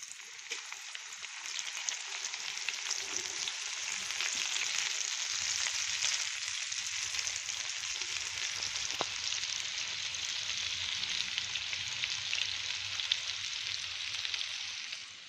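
A batch of food deep-fries in oil, producing a steady, hissing bubbling sizzle that holds at an even, fairly loud level throughout, with a single faint tap midway and no talking.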